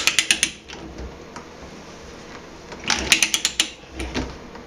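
A hand pipe threader cutting threads on galvanized pipe gives bursts of sharp metallic ratchet clicks in two groups with a quieter scraping pause between them, close and alone.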